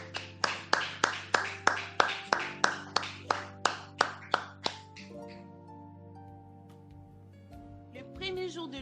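Church congregation clapping in a steady rhythmic unison, about a dozen loud claps at a brisk even pace, then stopping and leaving a quiet reverberant hall with faint tones and a short burst of sound at the end.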